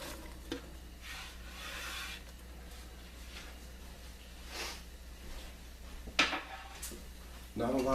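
Onions and mushrooms cook in a pan for a mushroom and onion bisque. A soft, steady sizzle runs under a few stirring scrapes and one sharper clatter near the end.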